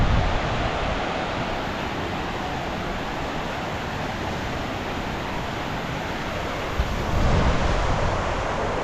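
Water of a mountain stream on the Vasudhara Falls trek rushes steadily as a broad, continuous wash, close and fairly loud, with a brief surge near the end and no voices.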